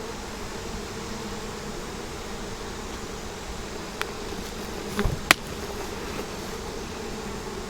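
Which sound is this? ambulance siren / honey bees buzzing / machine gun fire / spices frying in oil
honey bees buzzing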